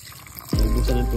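Water is poured into a pot where rambutan seeds are boiling, a sudden close splash and gush of liquid that keeps running loudly after a quiet start.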